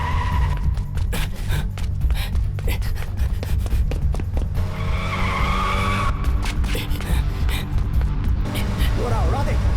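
A car speeding off in a movie chase scene, its tires squealing and skidding loudly and up close in repeated bursts, with shouting voices and music mixed in.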